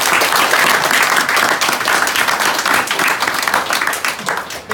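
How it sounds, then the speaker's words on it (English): Loud, dense applause from a seminar audience in Singapore, a continuous roar of many hands clapping that holds steady for several seconds. "Can you please give these two guys a round of applause"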